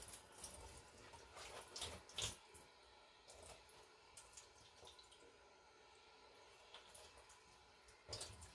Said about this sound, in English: letting the soapy water kind of rinse down